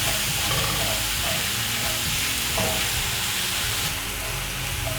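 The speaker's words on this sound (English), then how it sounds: "So you're going to use your spatula to break off the lumps in the meat." Minced beef fries in a pan while a spatula stirs it and breaks up the lumps. A steady loud sizzle runs throughout, with scraping stir strokes over it, and no voices.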